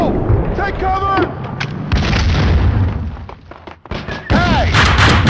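Grenade explosion in a game-like combat scene, heavy booming blasts and thuds layered over shouted voices, loud and close, with a second burst of noise after a short lull.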